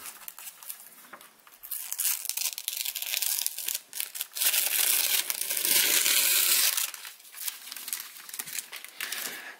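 Plastic wrapping is torn and crinkled off a boxed D-Link EXO AC2600 DIR-882 Wi-Fi router, with loud close crackling and ripping that swells into a sustained rustle before fading.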